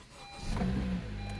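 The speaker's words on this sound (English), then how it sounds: "engine is running" A car engine catching after a push-button start, a brief cranking whir swelling into a low steady idle hum, close and moderately loud.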